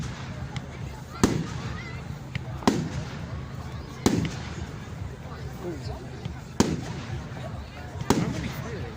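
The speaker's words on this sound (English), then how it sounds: "How many fireworks did they have?" Bonfire night fireworks in Mayfield go off as a handful of sharp bangs spaced a second or two apart, moderately distant, over background chatter and people talking nearby.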